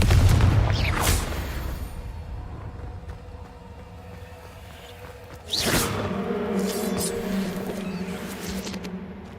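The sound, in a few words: Confringo spell blasts in video game Hogwarts Legacy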